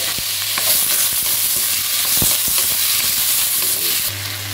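Broccoli and tomato sautéing in a pan for a simple home-cooked dish, a loud continuous sizzle with occasional stirring scrapes and clinks close by.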